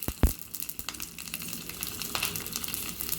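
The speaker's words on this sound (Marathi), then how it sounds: "आता ही मोहरी तडतडती आहे" Mustard seeds spluttering in hot oil for a tempering, with a couple of sharp pops up front and then a dense, quiet crackle and sizzle continuing close by.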